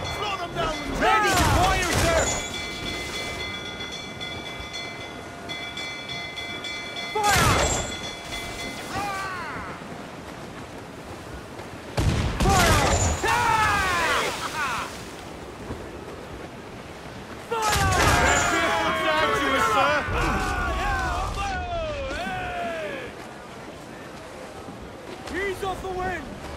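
Ship cannons firing in the video game Assassin's Creed IV Black Flag, several heavy broadside booms in bursts spread across the scene, mixed with crew shouting and game sound effects.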